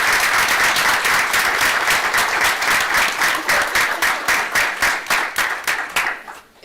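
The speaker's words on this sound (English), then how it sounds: "So let's have a round of applause for" Sustained audience applause fills a school board meeting room, steady dense clapping that thins and fades out toward the end, with no talking over it.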